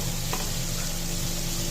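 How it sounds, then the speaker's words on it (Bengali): Shrimp and onions fry together in a pan, giving a steady dense sizzle that holds at an even level throughout, with one brief faint click near the start. "পেঁয়াজটা একবেলায় চিংড়ি মাছ ভাজা হইতে হইতে হয়ে যাবো"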